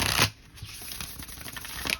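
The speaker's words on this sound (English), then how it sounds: "And the overhand hand shuffle is okay." An oracle card deck being overhand shuffled, with a burst of rapid card slaps at the start, a run of soft papery flicks through the middle and another brighter flurry near the end, close and fairly quiet with no talking.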